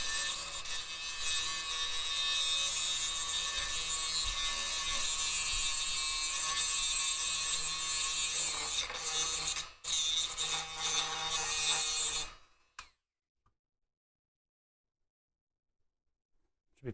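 A Dremel rotary tool cuts steadily and loudly for about twelve seconds, with a short break near the ten-second mark, and then stops abruptly into near silence.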